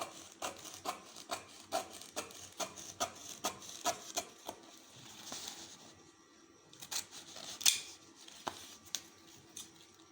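Scissors cut through stiff buckram fabric along a drawn line with a quick series of crisp snips and crunchy rasps, followed by a pause and a few more snips and rustles.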